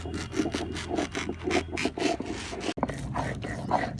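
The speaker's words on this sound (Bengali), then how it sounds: "এখানে একটা কলা পাতা নিয়েছি আর এই কলা পাতাটা ভালো করে ধুয়ে একটু চড়া রোদ্দুরের মধ্যে রেখে দিয়েছিলাম কিছুক্ষণ এবারে কি করছি দেখুন পাতা শিরাগুলো কেটে দিতে হবে" A banana leaf, washed and sun-dried, having its veins cut away, with rapid rhythmic rubbing and scraping strokes, close up, a short pause near the end before the scraping resumes.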